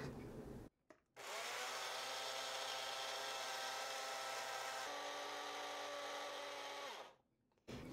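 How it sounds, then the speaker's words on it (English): Small electric spice grinder pulverizing dried oregano for chili powder: a steady, loud high-pitched whir running about six seconds after a brief false start, dropping in pitch slightly midway before spinning down. "I'm gonna add my oregano in there, and I'm gonna grind it up."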